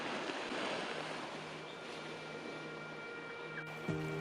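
Calm sea lapping gently on the East China Sea shore of Kamikoshiki Island, a soft steady wash of low surf with light wind, faint and continuous throughout, a brief knock and tonal hum near the end.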